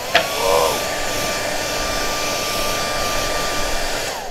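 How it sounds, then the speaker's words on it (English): A toy-style hairdryer that blows unheated air switches on and runs with a steady, broadband blowing whoosh, aimed at a small toy house and continuing alone at an even level. "maybe your grown-up will let you turn on the hairdryer. This one doesn't get hot. It just blows air"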